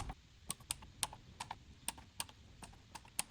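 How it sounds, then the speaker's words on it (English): Clicks and ratchet ticks from a torque wrench tightening the valve cover bolts to 10 Newton meters on a BMW M57 diesel engine. Sharp, irregular metallic taps sit close and fairly quiet over a low background, with no talking. "Now let's torque all the bolts to 10 Newton meters."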